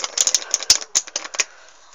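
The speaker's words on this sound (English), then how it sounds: "Shuffle them up a bit more." Playing cards being shuffled by hand during a card trick, a quick series of sharp riffling snaps over about a second and a half, then quiet.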